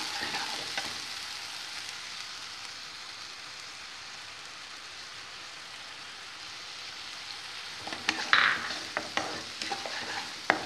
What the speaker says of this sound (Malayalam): ഇനി നമ്മൾക്ക് ഈ എണ്ണയിലേക്ക് തന്നെ അരച്ച് വെച്ചിരിക്കുന്ന അരപ്പ് ചേർത്ത് കൊടുക്കാം.